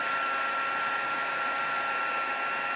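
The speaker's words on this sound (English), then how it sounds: "So you want to keep your heat tool moving." A heat embossing tool blows steadily while melting copper embossing powder on a card, giving a constant hair-dryer-like whir with a high tonal whine, close and unbroken.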